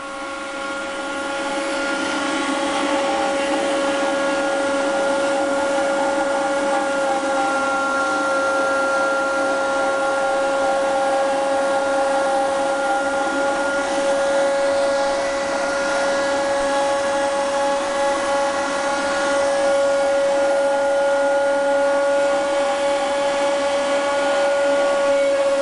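A loud, steady mechanical whine with a sustained high tone and grinding noise of a Creality Ender 2 converted to a CNC machine, spinning and cutting continuously, close by.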